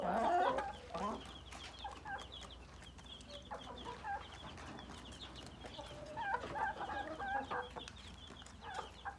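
Chickens feeding on watermelon in an outdoor farmyard, with a steady chorus of soft clucks and occasional louder squawks nearby, no speech.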